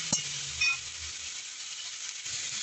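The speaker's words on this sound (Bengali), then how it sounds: "হালকা হাতে একটুখানি নাড়াচাড়া করে নেবেন 1 মিনিটের মতন" Chopped capsicum stirred in a hot frying pan for vegetable soup gives a steady close hiss of sizzling oil, with a couple of brief clicks from the spatula at the start and near the end.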